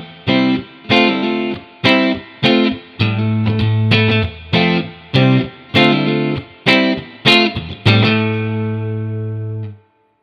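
Fender Strat on its middle pickup through a Hot Rod Deluxe amp, playing a steady rhythm of strummed chords, each stab clipped short, then one final chord left ringing out and fading, loud and close.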